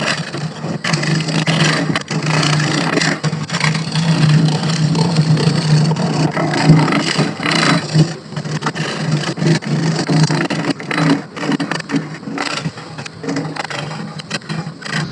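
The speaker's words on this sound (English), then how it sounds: "I'm going to flip this around, get rid of this guy, and then machine this as if it's the bottom" A sea grape bowl spins on a wood lathe as a tool is pressed into it, giving a continuous rough scraping and rumbling hum near the listener. It holds steady for about fifteen seconds, varying slightly as the cut changes.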